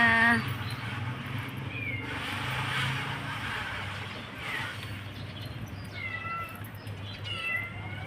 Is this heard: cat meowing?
yes